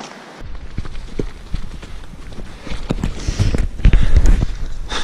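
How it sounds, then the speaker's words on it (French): Free-roaming horses walk at the foot of a mountain cirque, hooves clip-clopping in an irregular rhythm that grows louder and closer toward the end, with wind noise in the background. "Les chevaux en liberté, au pied du cirque."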